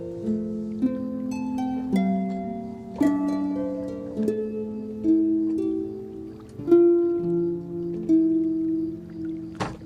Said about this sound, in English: The Native American flutes are minor scale.